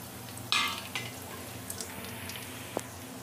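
Cumin seeds, whole red chillies, urad dal and chana dal frying in hot oil for a South Indian tempering, a soft continuous sizzle with a sharper crackle burst near the start and occasional faint pops and stirring clinks.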